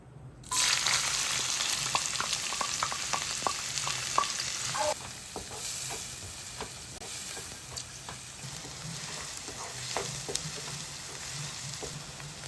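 Chopped onion, green chili and garlic hit hot coconut oil for egg noodles, giving a steady loud sizzle with bursts of stirring clatter from a spoon in the pan, continuing without any talk.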